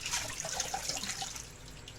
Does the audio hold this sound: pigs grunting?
no